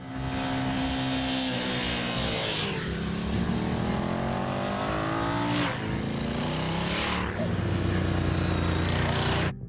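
A Bimota motorcycle engine revs hard and loud as the throttle is twisted, rising in pitch through three sweeping surges with a dense, continuous roar and no talking.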